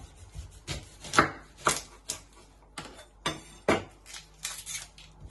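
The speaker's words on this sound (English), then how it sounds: "You're first going to chop your end off." A knife chops through an onion on a cutting board, trimming its end, in a series of about nine crisp, irregular cuts, close and fairly loud, with no talk.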